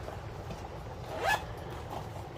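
A small Ipsy cosmetic bag used as a folder is zipped shut with one quick, close zip near the middle, over faint background rustling and no talk.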